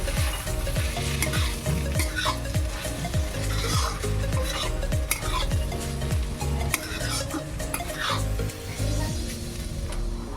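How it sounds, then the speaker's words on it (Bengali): Torn bread pieces and fried egg stir-fried together in a pan with soy sauce: a loud, continuous sizzle with steady scraping and clattering of a spatula against the pan throughout. "এবার সব মিশিয়ে নেব।"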